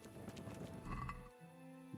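Horse hooves clip-clopping in the video game Kingdom Come: Deliverance, a short run of quick hoofbeats under ambient game sound, ending as the steps stop.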